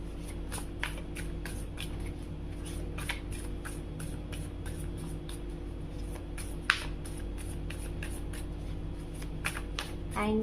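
Tarot cards shuffled and gathered by hand during a reading, a steady run of quick papery flicks and riffles repeating for several seconds, close and fairly soft over a low constant hum.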